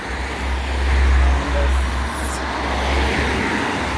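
Road traffic on the main road of Remich, a small Luxembourg town on the Moselle River, with cars and heavier vehicles passing nearby in a low rumbling swell and fade, heard while walking.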